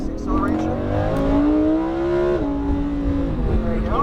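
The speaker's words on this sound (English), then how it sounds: "let's go ahead and test the acceleration" Lamborghini Huracan accelerating hard on a race track, engine note climbing steadily then dropping at a gear shift and rising again, loud and close from inside the car, with a voice talking over it.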